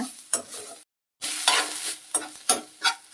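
Greens and their stems are stir-fried in a pan for tambuli, with a close, crackling sizzle and repeated scraping stirs. The sound briefly cuts to silence, then resumes.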